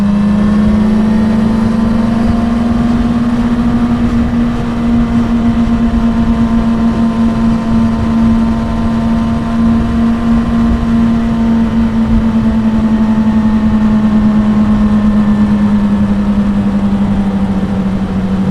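A Suzuki GSR600 motorbike cruises on a road, its engine holding a loud, steady hum with a smooth, gently wavering pitch over constant wind rush, with no voices.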